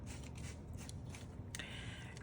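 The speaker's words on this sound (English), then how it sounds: "So I usually just take the scissors and go around." Scissors snip around the edge of wax paper ephemera, trimming off the excess: several soft, quiet crisp cuts and paper rustles at close range, with no talking.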